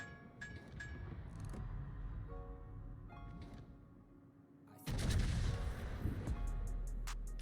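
Battleship main guns firing in a naval battle game, with a Tier 7 Teng She Pan Asian battleship nearby: a sudden heavy boom breaks in midway, followed by rumbling blasts after quieter ambient sea-battle sound.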